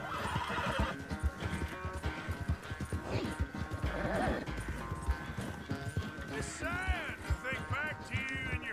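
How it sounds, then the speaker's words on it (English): Fast galloping hoofbeats of a video game horse drum continuously while it lets out several loud whinnies near the end, with a voice speaking underneath. "I don't want my horse to run out of stamina."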